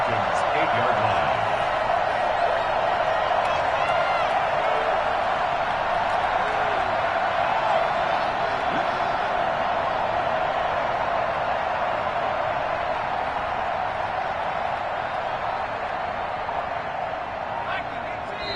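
Steady stadium crowd roar from a football video game, Falcons versus Minnesota near the goal line, a continuous loud wash of noise throughout with commentary talking over it.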